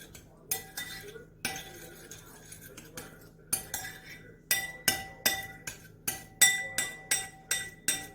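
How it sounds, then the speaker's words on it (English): Bruschetta tomatoes mixed in a bowl with a utensil, a run of bright clinks and scrapes against the dish, close and rhythmic, growing quicker and more regular toward the end. "I'm gonna mix this around in here real good"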